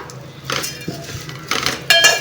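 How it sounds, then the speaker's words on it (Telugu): Flattened rice (poha) being roasted in ghee in a pan, with a few scraping and clinking strokes of a metal spoon against the pan, close and fairly loud, with no talking. "నెయ్యి వేసుకొని అటుకులు అలా ఒక్కసారి వేయించుదాము"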